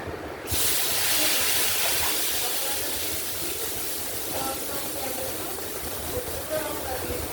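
Panch phoron spices hitting hot oil in a pan, a loud steady sizzle that flares up after half a second and then hisses continuously under someone talking.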